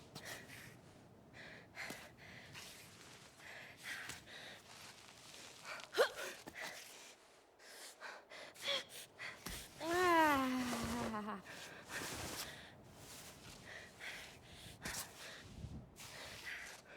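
A female climber character in the climbing game Cairn breathes in short gasps and snort-like exhales, scattered across the stretch and loudest in a cluster near the middle, over a faint ambient background.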